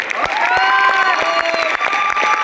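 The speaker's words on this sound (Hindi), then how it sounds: "दोस्तों ये जोरदार ताली है गुरु जी के लिए" Loud, dense applause from an audience at a motivational business gathering, sustained clapping with some cheering mixed in throughout, close and continuous.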